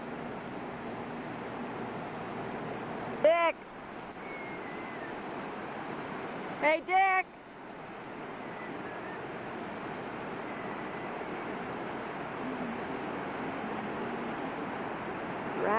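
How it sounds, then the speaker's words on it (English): Rushing water of the Nenana River rapids in Alaska, a steady broad roar heard from nearby throughout, with a man calling out briefly twice over it. "There go the rapids."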